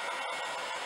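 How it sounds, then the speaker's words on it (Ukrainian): Specialised heat gun set to a fixed 110 degrees warming the original plastic gear-shift bracket on a Mercedes Vito 639, a steady close airy blowing hiss, brief and continuous, with no voices. "Далі беремо спеціалізований фен, в ньому є чітко фіксована температура."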